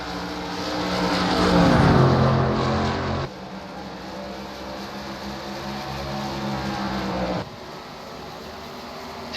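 Stock cars roar around Darlington in the 2008 Southern 500 Cup race. Engine noise swells to a loud pass near two seconds, then drops and holds as a steadier drone, with another shift late on.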